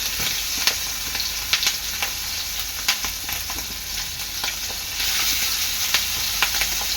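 Fish roe dropped into hot oil over a low flame, giving a continuous close sizzle and crackle with a few sharper pops and a slight lift in hiss near the end, no one speaking.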